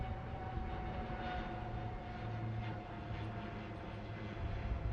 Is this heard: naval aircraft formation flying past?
yes